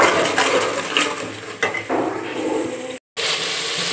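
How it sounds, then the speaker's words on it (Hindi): Spice powder roasts in a pan over softened tomatoes and chillies, a close, steady sizzling hiss with a few utensil scrapes and one brief drop to silence. "मसाले नूं अच्छी तरह भुन लैणा है।"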